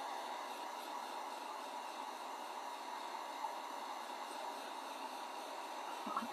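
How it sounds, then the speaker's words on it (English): A hair dryer blows steadily over grunge paint on a pumpkin, an even whooshing hiss that holds at one level from start to finish, close by and unbroken. "I'm just gonna dry up this grunge a little bit"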